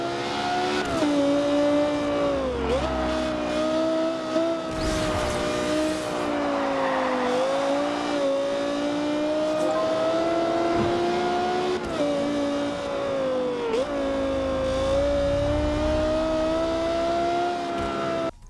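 A finely tuned sports car in the racing game Forza Horizon 2 holds a loud, steady high-pitched engine whine with pitch dips at gear changes, joined by bursts of tire squeal, continuous and up close throughout.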